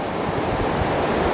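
Rapids on a river at a fishing spot rush in a steady, loud broadband roar of churning water, close and unbroken, with no voices.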